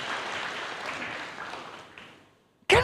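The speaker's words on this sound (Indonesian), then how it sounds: "Berikan tepuk tangan yang meriah buat Tuhan" A crowd at a church sermon claps steadily, a broad wash of applause that gradually fades out before a short, sharp burst of sound at the very end.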